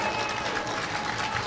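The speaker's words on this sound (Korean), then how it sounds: "박수 부탁드리겠습니다." An audience at a political street-busking event claps in sustained, dense applause that fills the space evenly for the whole moment, with a crowd murmur mixed in.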